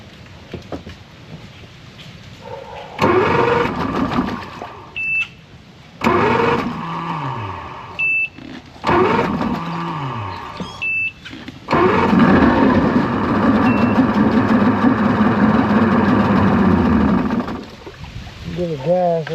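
A 1998 Evinrude 225hp outboard motor cranks in several short attempts, catches, and settles into a loud running idle with revving, while a person talks nearby.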